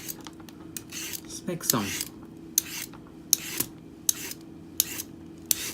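A Y peeler draws across a cucumber in a series of quick, scraping strokes, cutting thin strips at close range in a kitchen, while a voice talks faintly underneath.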